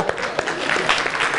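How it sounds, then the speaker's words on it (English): Audience applause at a talk, a short burst of dense clapping from a crowd, fairly close and steady, with a voice faintly heard alongside. "Give yourself a round of applause."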